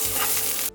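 Spring onions and ginger sizzle loudly in a wok while being stir-fried for Chinese ginger and spring onion chicken, a brief dense hiss that cuts off abruptly.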